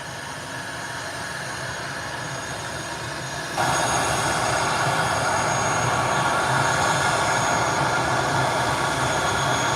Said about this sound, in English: And this is the ATR out of Bahamas, ATR 72, out of Nassau, Bahamas.